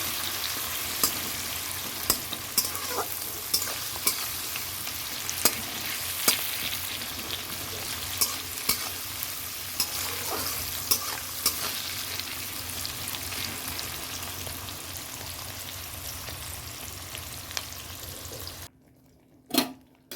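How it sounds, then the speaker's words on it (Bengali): Onion frying in a pan for khichuri: a steady close-up sizzle with scattered crackles and pops running for most of the clip, cutting out abruptly near the end before one brief clatter. "পেঁয়াজটা একটু ভেজে নেবো কেননা কাঁচা পেঁয়াজ দেবো না"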